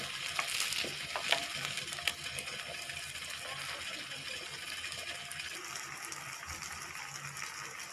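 Wheat flour malpua frying in oil on a medium flame produce a continuous faint crackling sizzle with a few soft clinks and stirring taps near the start, no voices.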